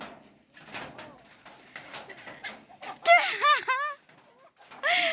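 Chickens cluck and call in bursts from close by outdoors in the rain, with a louder run of calls in the second half, and people talk between them.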